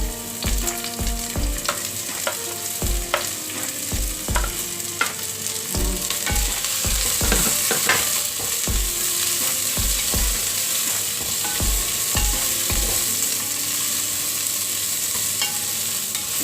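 Onion fries in hot oil with ginger and garlic for squid adobo, a steady sizzle broken by frequent sharp clacks and scrapes of a utensil stirring in the pan, close and fairly loud with no talk.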